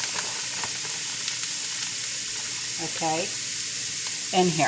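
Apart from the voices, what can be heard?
pork steak sizzling as it is added to the pan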